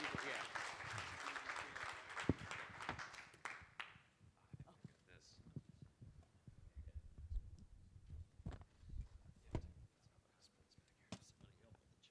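Applause from a conference audience for a panel fades out after about four seconds, followed by a quieter room with scattered clicks, taps and murmuring.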